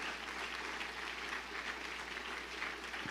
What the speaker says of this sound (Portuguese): Se você vai aplaudir, aplauda forte.